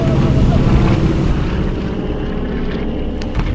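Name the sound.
twin-engine airplane approaching from the south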